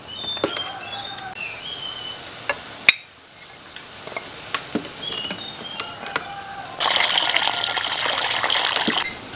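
Boiled pork trotters for a soup are rinsed under running water, a steady gush of a few seconds near the end that follows scattered quiet clicks and faint chirping birds in the background.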